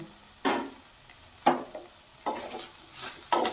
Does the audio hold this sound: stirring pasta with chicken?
yes